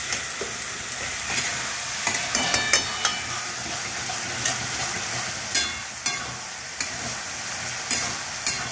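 Chopped tomato with coriander powder fries in a pan for a ridge gourd curry. A continuous close sizzle runs under repeated sharp scrapes of stirring.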